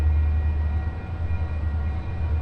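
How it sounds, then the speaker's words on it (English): A freight train passes nearby, giving a steady, heavy low rumble with continuous broadband rolling noise throughout and no distinct horn or talking. "Now I think this is these are the freight trains."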